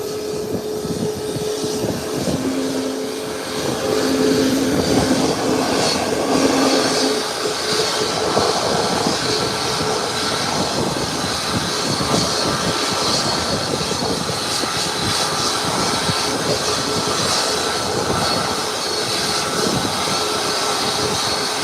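An American Airlines jet taxis in to the gate at close range, a steady broad engine roar with a whining tone filling the whole stretch alongside constant airport background noise, no talking.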